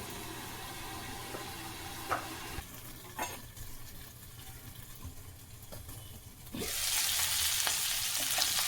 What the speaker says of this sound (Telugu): ఇది మూత పెట్టేస్తాము కొంతసేపు బాగా మగ్గుతుంది చికెన్